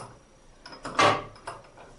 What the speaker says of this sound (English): first we're going to put a contact in the vise here